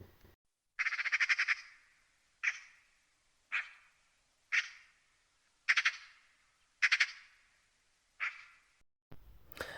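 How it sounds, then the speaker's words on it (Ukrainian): Harsh, rattling magpie calls repeat in short bursts, about seven or eight in a row with pauses between, fairly close with no other sound. "Що за пташка видає такий звук? Скрекотуха білобока звуть усі її сорока."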